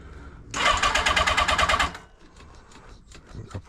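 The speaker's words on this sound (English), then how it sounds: "let's pull the choke right out, turn it on, give it a couple of whacks with the throttle" A 1980 Honda CB650C motorcycle engine cranks with a rapid rhythmic starter churn for about a second and a half, then drops to an uneven, sputtering idle, close by.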